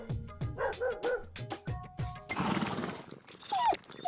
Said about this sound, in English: what a nice doggy